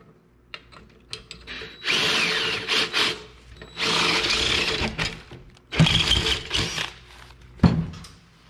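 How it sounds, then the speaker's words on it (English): Handheld power drill, a borrowed one acting up while he works, whirring loudly in three long bursts separated by short pauses and a few sharp knocks. "What is up with this drill?"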